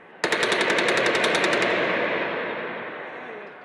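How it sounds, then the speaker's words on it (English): Gunfire on a bridge near Liberation Square in Cairo bursts out as a rapid automatic volley of a dozen or so sharp cracks, then rolls into a long fading echo and crowd noise. "Gunshots can be clearly heard."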